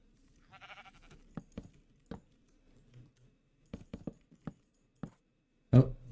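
A single short bleat from a Minecraft sheep, thin and harmonic, near the start, followed by scattered soft block-placing clicks and taps, then a thump at the end, with no talking.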